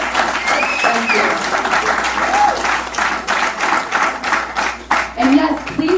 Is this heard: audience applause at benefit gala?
yes